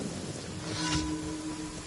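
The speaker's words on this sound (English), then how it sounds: "why is it thundering?" A low thunder rumble rolls through a rainy Genshin Impact scene, swelling briefly midway over steady rain hiss and a faint sustained tone, with no voices.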